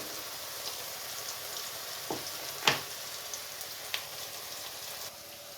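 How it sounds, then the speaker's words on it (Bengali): Onions frying in hot oil with chopped garlic added, a faint steady sizzle with a few soft stirring knocks and one sharper clack near the middle; no voices. "পেঁয়াজটাকে আমি বেরেস্তা করে ভেজে নেব"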